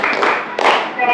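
A classroom of children claps together in a counted clapping routine, a few sharp bursts of hands close by, with a voice speaking over them.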